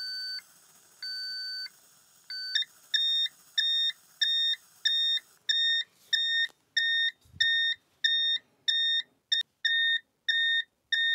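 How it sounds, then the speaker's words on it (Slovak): A 3GAS gas alarm fitted in a caravan or motorhome sounds a loud electronic two-tone beep, first in a few slower pulses, then a steady rapid series of evenly spaced bursts, close and alone. "Ak nebezpečenstvo stále pretrváva, spustí hlasný alarm."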